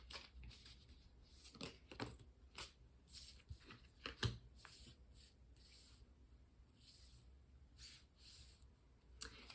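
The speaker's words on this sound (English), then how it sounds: "And we're going to keep shuffling." Tarot cards are shuffled close up, giving soft irregular riffling and rubbing bursts across the whole stretch, quiet and with no voice.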